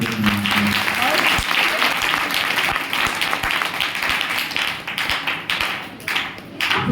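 A church congregation claps together during a Hindi-language sermon, a dense, sustained patter of many hands filling the hall, with a preacher's voice carrying over it.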